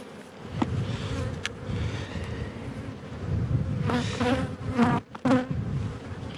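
Honey bees buzz in a dense, close swarm during a hive inspection, with individual bees droning past the microphone over a constant humming background.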